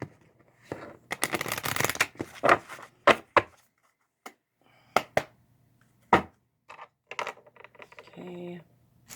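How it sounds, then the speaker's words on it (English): Cards riffled and shuffled up close in quick crisp bursts, followed by scattered taps and snaps of cards being squared and handled. "I'm just going to give these cards a couple more shuffles"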